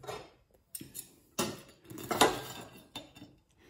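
An airfryer-cooked beef croquette is cut open on a plate, heard as a series of sharp close clinks and scrapes of cutlery against dishware, spaced irregularly with quiet gaps, no voices.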